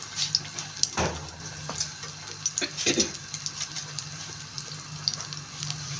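Leftover rice kababs frying in a pan, a steady soft sizzle with scattered pops and occasional louder clatter of placing them in the oil, no talk.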